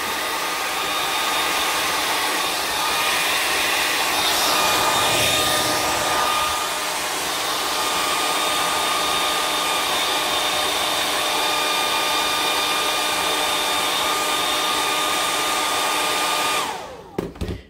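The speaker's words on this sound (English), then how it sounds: "So here's your hair dryer. Just blast it real quick." A hair dryer blows with a steady high-pitched whir, running continuously and close, then shuts off near the end.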